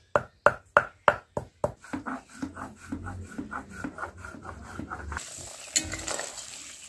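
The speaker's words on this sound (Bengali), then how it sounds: "এখানে মা গোটা গরম মশলাটা বেটে নিচ্ছে" Whole garam masala spices being ground by hand, with sharp rhythmic pounding strokes that soften into repeated rubbing and rasping, close and fairly quiet.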